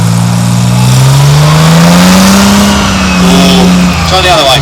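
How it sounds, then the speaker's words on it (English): A tracked armoured vehicle's engine revs up and holds at a loud, steady pitch, rising and easing, at an outdoor military vehicle show in hot weather. Voices talk over it throughout. "Half rev, pull back a little bit more rev."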